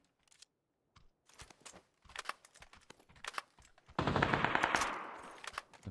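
Video game gunfire crackles in quick bursts between keyboard clicks, then swells into a sustained loud volley near the end.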